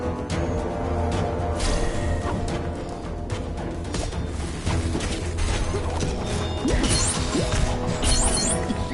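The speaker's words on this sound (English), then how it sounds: "Hulk ready to smash" Hulk smashes through objects in the Lego Marvel Super Heroes 2 video game, with dense crashes, thwacks and clattering mechanical debris continuing without a break, loud and busy.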